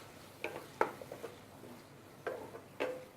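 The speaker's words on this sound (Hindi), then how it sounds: "इन सबको ज़रा मिक्स कर लेंगे।" A spoon clinks and scrapes against a bowl while Schezwan sauce and chili are mixed for crispy chicken, a few sharp taps spaced irregularly amid quiet stirring.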